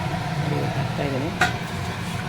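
Raw banana bajji in gram flour batter fry in hot oil with a steady close sizzle, as a spoken voice runs over it and a brief utensil scrape cuts in midway.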